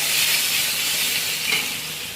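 Chopped tomatoes and onions hiss and sizzle in hot oil in a pan while a fish curry with sponge gourd is cooked, a steady close frying sound with no talk.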